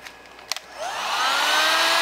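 A heat gun starts up and blows hot air across heat-shrink tubing on a coax choke assembly, a rising whooshing roar that quickly builds to a loud, steady rush close by after a couple of soft clicks.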